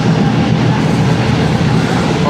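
Shalimar Express passenger train running between stations on the way to Lahore, a steady loud interior rumble with constant low wheel and carriage noise throughout, no distinct clacks standing out.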